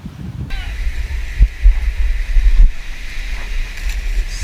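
Gusty wind buffets the microphone with low rumbling roars, over a steady wash of sea waves outdoors at the shore.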